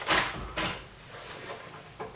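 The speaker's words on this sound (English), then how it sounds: "Someone's knocking at the door." Several sharp knocks on a door indoors, a few distinct raps spaced apart and fairly close, with quiet room tone between them.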